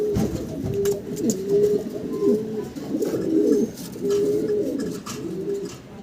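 Pigeons coo in repeated soft, throaty phrases at a pigeon farm, several overlapping at a steady rhythm, close and moderately loud.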